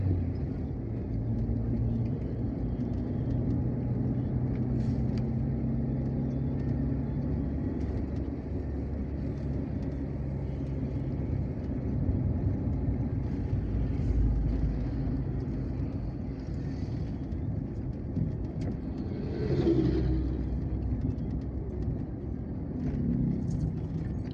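Steady low rumble of vehicles travelling the Palembang–Jambi Trans-Sumatra road, engine and tyre noise droning continuously at moderate distance with one brief louder surge partway through.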